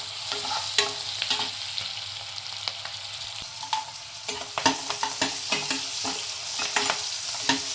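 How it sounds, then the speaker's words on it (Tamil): Green chillies fry in hot oil with a lump of asafoetida, a soft continuous sizzle with frequent sharp spatters and pops and occasional stirring clicks. "பொரிஞ்சிடுச்சு பச்சை மிளகா"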